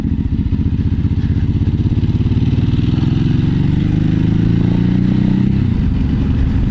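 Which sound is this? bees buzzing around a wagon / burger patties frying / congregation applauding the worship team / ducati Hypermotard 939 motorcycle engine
ducati Hypermotard 939 motorcycle engine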